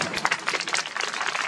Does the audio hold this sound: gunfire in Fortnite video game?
no